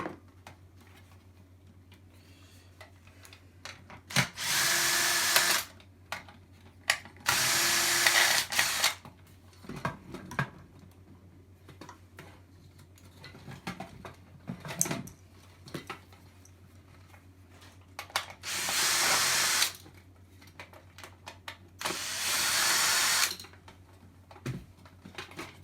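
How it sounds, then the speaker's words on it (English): A screwdriver works at a plastic battery casing, producing several bursts of grinding, whirring mechanical noise with scattered clicks and taps between them, close and moderately loud. "Needs a screwdriver."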